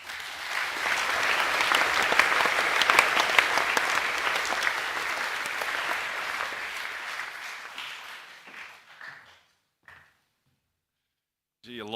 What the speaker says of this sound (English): Can we give the boys another round of applause, please?